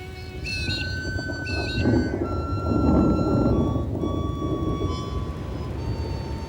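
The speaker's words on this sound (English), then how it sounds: "it starts raining" Rain and thunder in the Australian outback, a steady broadband wash with a low rumble swelling around the middle, while a few bird calls sound near the start.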